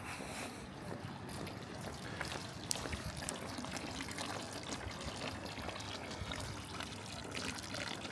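Fresh spring drinking water flows from a fountain in Gstaad, heard as a faint, continuous splashing trickle at night.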